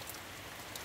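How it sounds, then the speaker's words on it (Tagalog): Steady rain falls on a hard surface, a dense, even patter of drops with no pauses. "Ulan na pod."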